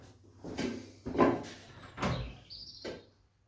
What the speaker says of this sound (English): But look, got a door.